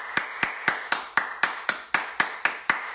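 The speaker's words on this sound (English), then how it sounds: "let me clap for you" Ten steady hand claps at an even, unhurried rhythm, crisp and close with nothing else around them.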